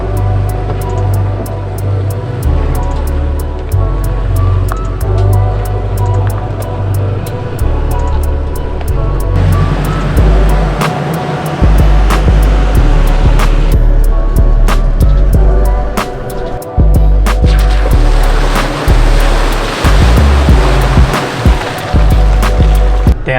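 A stock Toyota Tacoma in 4-wheel drive ploughs through a mud puddle off-road. Heavy low rumbling and sloshing water surge loudly and continuously, with thumps and splashy bursts as the truck pushes through.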